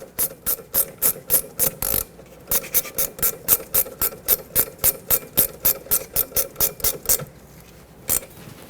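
A ratchet snugs a brake hose bolt onto the rear caliper of a 2006-2010 Hyundai Sonata, producing a fast, steady run of crisp pawl clicks in quick bursts with a brief pause, close and loud, with no speech.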